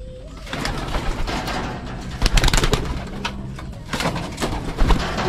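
Racing pigeons at the start of training, giving repeated soft throaty coos close by over a busy rustling background with wing flutters and handling noise.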